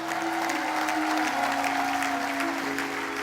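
A church congregation applauds and cheers in steady, dense clapping with crowd noise throughout, while a sustained keyboard chord holds underneath.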